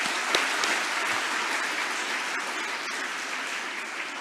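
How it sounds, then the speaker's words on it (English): Steady, dense applause from a conference audience thanking the speakers at closing remarks, a broad, even wash of many hands clapping throughout with no talk on top. "give a round of applause"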